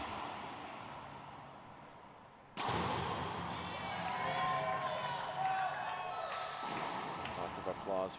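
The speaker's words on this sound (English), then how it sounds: "Lots of applause from our Canadian contingent here." Spectators at a junior girls' 16 singles tennis world championship, a Canadian contingent, break into loud, sustained applause and cheering that swells suddenly and carries on, with commentators talking over it.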